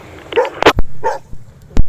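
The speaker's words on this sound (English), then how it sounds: "Lexi was barking." A dog named Lexi barks in a few quick, close yips and woofs during an overland trail drive, the short bursts separated by brief pauses.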